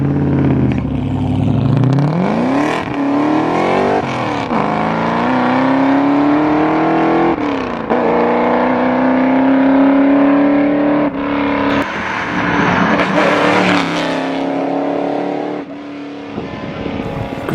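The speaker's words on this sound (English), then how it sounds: "Great sound that car made" A classic car at an outdoor show revs loudly and steadily for a long stretch, its engine note rising and holding with repeated throttle blips and dips, near and unaccompanied by talk.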